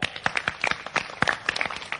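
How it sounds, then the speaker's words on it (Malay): An audience at a theatre event claps for a guest of honour. Brisk, scattered handclaps come at a moderate level, close by, with no one speaking over them. "Berikan tepukan buat beliau."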